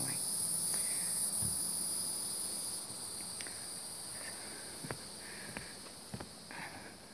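Crickets chirp steadily beside a spring-fed river on a warm evening, a constant high insect trill running throughout with a few faint scattered knocks and footstep-like thumps beneath.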